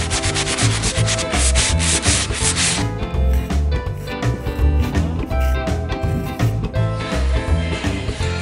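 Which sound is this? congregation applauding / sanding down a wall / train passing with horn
sanding down a wall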